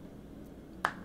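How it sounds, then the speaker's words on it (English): A single short clap in the Happy Game video game, a sharp crisp hit standing out over a faint low background hum. "Stop clapping."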